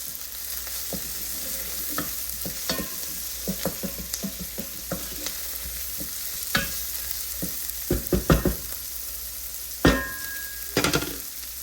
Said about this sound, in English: Now I'm going to add my peppers